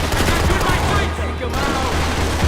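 Gunfire in the video game Max Payne 3 rattles on nonstop, with dense, loud automatic bursts blurring into one harsh roar under a faint shouting voice.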